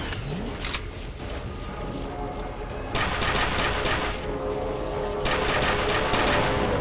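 Bursts of rapid automatic gunfire in the first-person shooter F.E.A.R., with a mech in play, several loud volleys separated by brief pauses over a steady mechanical background rumble.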